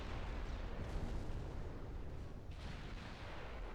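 A torpedo strikes a ship in the naval battle game Ultimate Admiral: Dreadnoughts, heard as faint, steady, rumbling explosive noise that swells slightly without one distinct impact.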